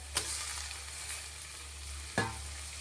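Chopped tomatoes hit a hot pan over a high flame for tomato rice, setting off a steady oil sizzle, with two sharp clatters of stirring about two seconds apart.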